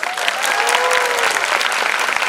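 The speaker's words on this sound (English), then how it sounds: "Can we have a huge round of applause?" A crowd at a school ceremony claps loudly and continuously, dense applause filling the whole moment without a break.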